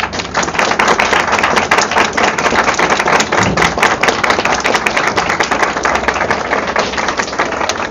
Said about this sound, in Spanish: muchos aplausos